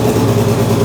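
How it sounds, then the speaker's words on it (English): The newly reassembled LS VTEC engine in a Honda Civic runs at its first start, a loud, close, rough rumble that holds steady for a moment. "Start it up for real and see if we can get it to idle."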